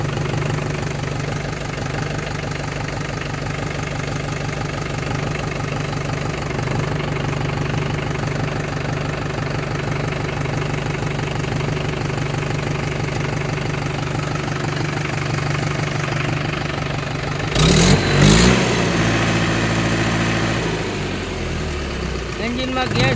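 A Mahindra 475 tractor engine idles steadily close by, a continuous low rumbling chug, with a brief louder clatter near the end; someone talks over it.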